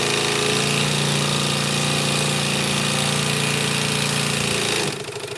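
Sewing machine running continuously while stitching down a fabric bag strap, a loud steady mechanical whir with a rough, buzzing, chainsaw-like edge that stops abruptly near the end.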